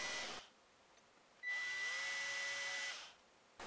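A small drill bit boring into a teak kitchen chair joint, two short high-pitched whirring bursts from the drill separated by quiet pauses.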